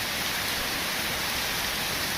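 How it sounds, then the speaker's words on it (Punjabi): Heavy rain pours down steadily, a dense, even hiss of water with no pauses or voices. "ਲੋ ਸਵੇਰੇ ਸਵੇਰੇ ਅੱਜ ਮੀਂਹ ਲੱਗਾ ਆ ਫੇ"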